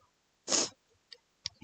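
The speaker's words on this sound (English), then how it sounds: "Sorry, I had to sneeze." One loud, sharp sneeze bursts out close by, followed by a few faint sniffs and small mouth sounds in otherwise near silence.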